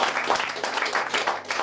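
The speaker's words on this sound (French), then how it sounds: "Acclamez pour le Seigneur." A church congregation applauds, a continuous moderate patter of many hands clapping together, filling the room without pause.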